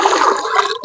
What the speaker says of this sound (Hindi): ऐसे पानी डाले